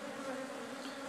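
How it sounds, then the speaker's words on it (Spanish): Honeybees hum in a dense, continuous drone at a large, strong hive, heard close and steady with no voices. "es una colmena bien grande. Todavía la población sigue bien grande, bien fuerte"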